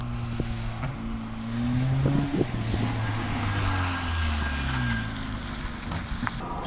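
Cars rev and race around a supermarket parking lot outdoors, with engine tones rising and falling over wind noise across the whole stretch, heard from some distance.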